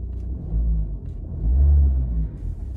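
A BMW N47 diesel engine runs noisily in a workshop, a close, deep, rough idle that swells into two heavier surges.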